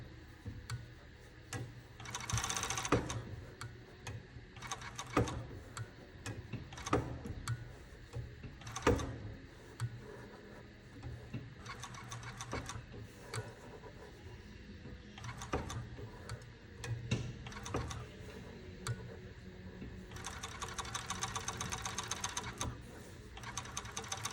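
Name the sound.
overlocker sewing machine stitching fabric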